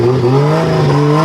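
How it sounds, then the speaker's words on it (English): Engine of a purpose-built drift race car, a loud close droning tone with clear rising harmonics as the revs climb slightly and hold, brief and without speech. "That's a real deal race car right there."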